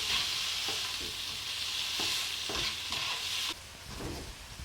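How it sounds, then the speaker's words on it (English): A spatula scrapes and stirs noodles in a hot sizzling pan, making several distinct stirring strokes over a steady, loud frying hiss. "Grab your spatula, and now we just mix it through."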